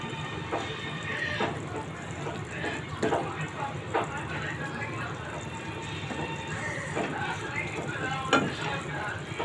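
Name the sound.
Shilon river fish being fried (bhuna) with coriander leaves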